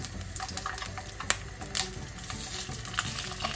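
Salmon collar dusted in starch frying skin-side down in oil in a wok, a steady low crackle with a few sharper pops and spatters, close and moderately quiet.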